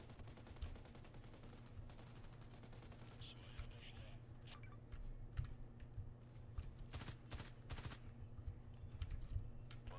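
Rapid gunfire bursts and single shots in the online shooter game Contract Wars, repeated sharp cracks over a steady game ambience hum, with louder volleys toward the end.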